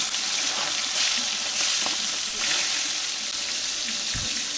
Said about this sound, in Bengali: এবার আমি গরম তেলের মধ্যে এক এক করে মাছগুলোকে দিয়ে দিচ্ছি।